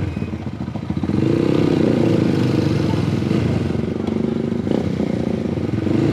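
A Motorstar Z200X motorcycle with an SC Project exhaust pipe and stock elbow idles and revs, a loud, continuous raspy engine drone close by with a slight swell in the middle.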